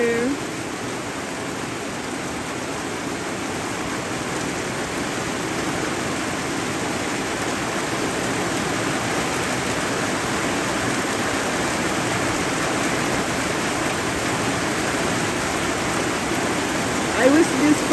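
Steady, dense heavy rain pours down without a break on an African village homestead in the evening, a constant broadband hiss filling the whole stretch, with nobody speaking.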